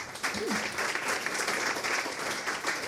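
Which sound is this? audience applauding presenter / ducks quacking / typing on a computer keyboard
audience applauding presenter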